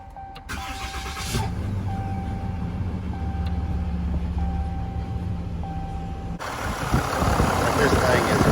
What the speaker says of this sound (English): just let y'all hear how quiet these new engines are